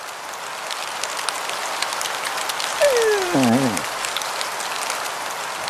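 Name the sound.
rain sound effect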